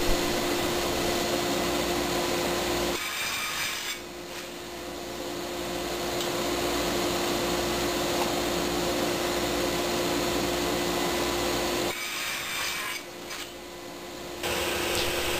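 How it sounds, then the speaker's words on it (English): A table saw with a sled crosscuts wooden slats to length, its loud, steady motor whine running almost continuously, with two brief dips where the blade passes through the wood. "Next I use my table saw sled to cut the slats to length."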